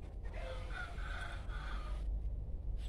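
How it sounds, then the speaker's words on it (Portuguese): Roosters crowing in a garden, a drawn-out cock-a-doodle-doo heard at moderate distance over a steady low rumble of background noise. "tá com muito barulho ali, os galos cantando"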